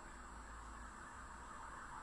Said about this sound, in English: See, there's more sirens going past.